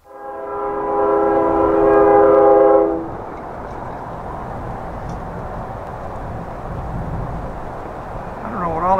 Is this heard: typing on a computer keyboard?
no